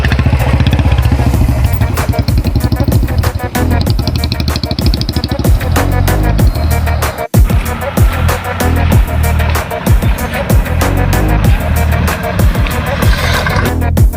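Motorcycle being ridden, its engine revving loudly and continuously up close with clattering, a brief sharp dropout midway, then the engine roaring on with pitch swings; faint voices mixed in.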